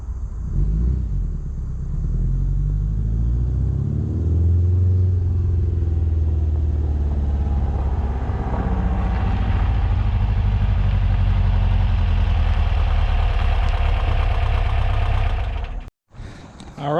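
A Porsche 914 sets off on a test drive after brake bleeding, its engine rumbling low and steady from inside the car and building gradually before cutting off abruptly near the end.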